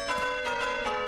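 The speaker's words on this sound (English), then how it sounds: "It's the Bing Bong Bell." The Bing Bong Bell rings in The 7D cartoon, a bright, resonant bell struck a few times in quick succession.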